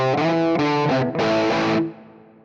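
An electric guitar through a distorted V2 amp preset and a pair of 1960 Marshall cabinets plays a few loud chords that ring briefly and then fade out.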